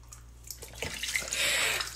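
Running tap water splashes steadily over a raw fish being rinsed while preparing a Cameroonian grilled or braised fish dish, the flow building louder in the second half, with no talking.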